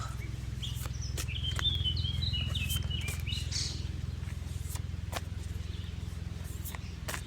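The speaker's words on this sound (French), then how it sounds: "Il y a le vent qui souffle dans les arbres, les oiseaux aux alentours." Steady low rumble of wind blowing through trees under a few soft bird chirps and scattered light taps, calm and distant.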